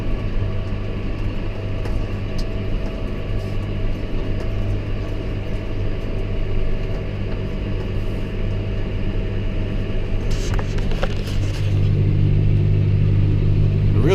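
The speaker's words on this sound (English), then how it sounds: "it's a bigger tractor, more weight, more power," A large, heavy tractor engine runs steadily while working a field, a constant low drone up close with a slight rise in load near the end.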